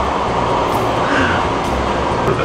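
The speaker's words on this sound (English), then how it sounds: "Being in a train, screaming down the countryside at night" A train runs steadily through dark countryside at night, heard from inside as a constant loud rolling roar and rumble with no breaks, and no voices over it.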